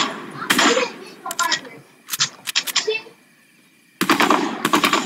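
Gunfire in a shooter video game, with sharp bursts at the start, in the middle and again near the end, heard under and between speech.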